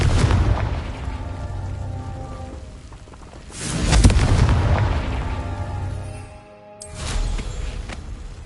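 Booming blasts from the Confringo fire spell in Hogwarts Legacy, two heavy explosions a few seconds apart, each swelling and rumbling off over a continuous ambient background.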